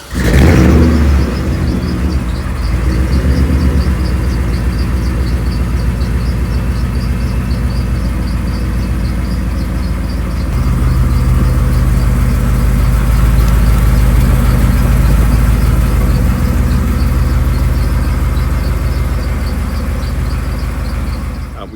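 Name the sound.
1957 Chevy Bel Air convertible engine idling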